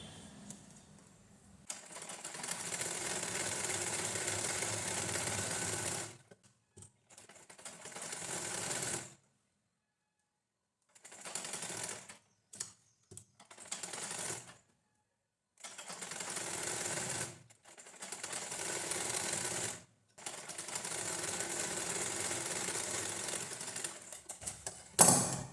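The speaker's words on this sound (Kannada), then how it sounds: "ಉಲ್ಟಾ ಮಾಡಿ ಇಟ್ಕೊಂಡು ಮತ್ತೆ ಇಲ್ಲಿಗೆ ಲೈನಿಂಗ್ ಮೇಲೆ ನೀಟಾಗಿ ಒಂದು ಸ್ಟಿಚ್ ಹಾಕ್ಬಿಡೋಣ." A sewing machine stitches a blouse lining in several long bursts of steady whirring, stopping and starting with short pauses between runs, loud and close with no talking.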